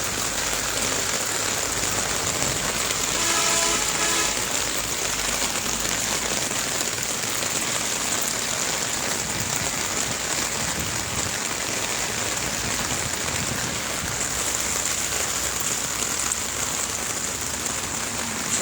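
Heavy rain pours steadily onto a flooded road in Chandra, Kaliakair, Gazipur, a dense unbroken hiss of falling water from start to finish with no voices.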